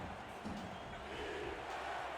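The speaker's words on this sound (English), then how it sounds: "the crowd in Louisiana getting hyped up for this 3rd down play" A football stadium crowd in Louisiana roars and cheers steadily before a third-down play, a dense, distant wall of voices with no single voice standing out.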